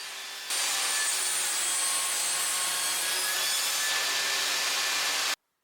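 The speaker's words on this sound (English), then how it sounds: "I cut the pieces to the necessary size, making 45-degree cuts for the joints." Wooden pieces for joints being sawn at 45-degree angles, a steady continuous rasping hiss that starts abruptly, runs loud and close for about five seconds, then stops dead.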